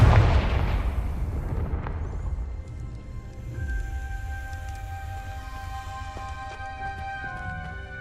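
A Confringo blasting spell in Hogwarts Legacy, played on Xbox Series X. One loud, close burst opens, and its deep rumbling tail slowly fades into a quieter, steady tonal hum.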